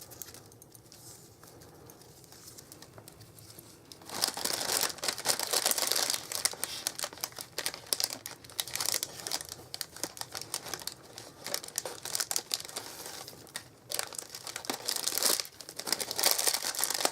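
Paper being cut and fluted at the top for a Stampin' Up Christmas candle decoration: quiet at first, then close, busy crinkling, rustling and snipping that continues steadily to the end.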